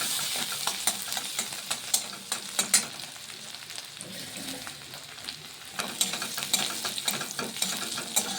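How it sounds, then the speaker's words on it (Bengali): Asafoetida, chopped green chilli and ginger fry in hot oil with a soft, steady sizzle, punctuated by the scrape and clatter of a spoon stirring the pan at close range. "হিংটা দেওয়ার পর আমি এখানে এই যে লঙ্কা কুচিটা দিয়ে দিচ্ছি, আর এখানে আদাটা দিচ্ছি। এটা আমি ভালো করে ভেজে নিচ্ছি।"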